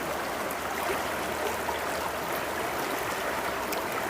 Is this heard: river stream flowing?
yes